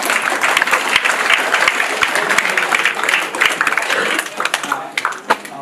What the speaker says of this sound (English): round of applause for Robin, please.